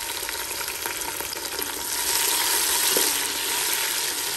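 Onions and tomato fry for donne biryani in a pan, giving a steady, close sizzle with occasional stirring scrapes and no talking.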